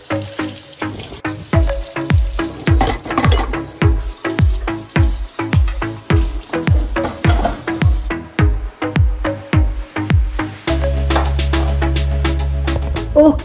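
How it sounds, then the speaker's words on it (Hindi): Dishes being washed at a kitchen sink: repeated clinks and clatters of crockery over running tap water, close and loud, then a steady stream of water from the faucet alone near the end. "मैं बर्तन कर रही हूँ"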